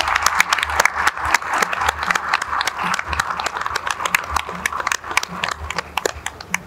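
Spectators at a flag hoisting ceremony at a high court applaud schoolchildren, with sharp, uneven claps from a modest crowd, some hands standing out close by as the clapping rises and dips in bursts.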